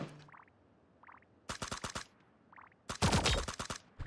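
Gunfire in the Sausage Man video game comes in two rapid bursts of shots, loud and close, with short weapon sounds and quiet gaps between them.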